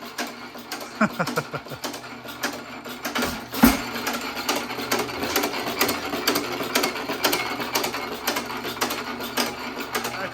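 A hit-and-miss engine running after a piston and connecting rod swap, ticking with a rapid regular mechanical clatter and periodic heavier thumps, moderately close and without talk.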